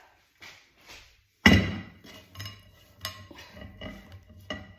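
Achar ingredients with masala being mixed by hand in a cooled tray, giving a sudden loud rustle followed by repeated scraping and clinking strokes, close and uneven, with no talking.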